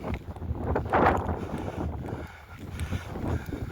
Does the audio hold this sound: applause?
no